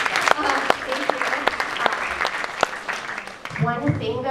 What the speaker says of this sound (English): We can clap, it's okay.